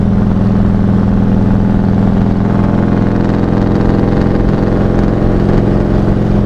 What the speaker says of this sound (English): Oh, the exhaust hitting off of the fucking wall right here. That sounds so good.